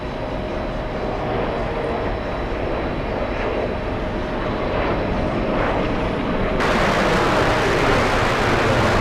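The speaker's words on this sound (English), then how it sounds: "This must be one of the exec jets" Executive jet at JFK airport during UN week, a steady broadband engine roar that stays loud and constant and grows slightly stronger toward the end.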